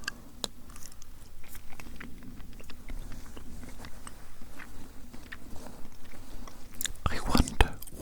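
Close, wet chewing and mouth sounds during an ASMR eating roleplay, with a steady soft crunching texture and a few louder bites near the end.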